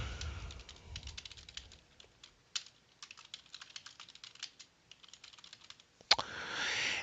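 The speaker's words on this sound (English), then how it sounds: "you can type a quick message" Rapid clicking keystrokes on a computer keyboard as a short message is typed, irregular bursts of taps close by, ending with a louder clack and a steady hiss of noise.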